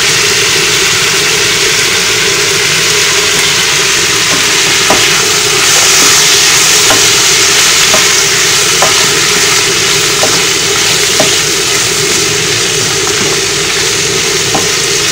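Fried rice with added mango frying in oil in a pan, giving a steady, loud sizzle with occasional light clicks of stirring and a low background hum throughout.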